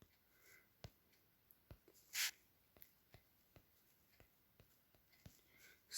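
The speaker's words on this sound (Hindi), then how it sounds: "फिर हम ब्लू पेन उठाएंगे और लिखेंगे" A blue pen writes on paper, giving faint scratchy strokes and taps spaced irregularly across the stretch, quiet and close with no talking.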